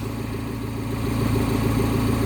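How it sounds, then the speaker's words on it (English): A rebuilt Mini Cooper S R56 with the N14 engine idles steadily close by, a smooth, even mechanical hum with a faint pulse and no revving. "Oh, she's idling perfectly."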